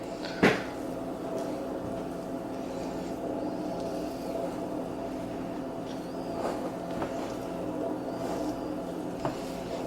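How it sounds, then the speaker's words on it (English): A single sharp thud of a refrigerator door shutting near the start, over a steady appliance hum, followed by faint light clicks. "I need to shut my fridge."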